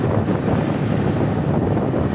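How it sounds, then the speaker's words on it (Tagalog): Strong wind buffets the microphone over a steady rush of waves and surf, loud and continuous throughout. "Ginugulo ako ito sa hangin at alon"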